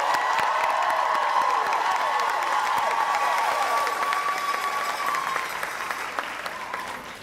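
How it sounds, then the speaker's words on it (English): A large awards-ceremony crowd claps and cheers loudly and continuously, a dense roar of hands and voices that holds steady for several seconds before easing slightly at the end. "give these three fine folks one more round of applause"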